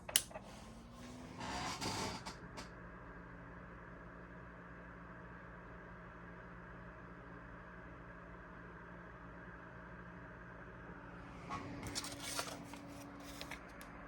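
A Thermalright TL-B12 Extreme 120 mm computer fan runs steadily with a constant tonal whir and airy hiss, bracketed by brief louder rustling, like paper flapping, near the start and end.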